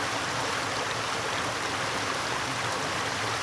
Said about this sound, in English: came across this little river here.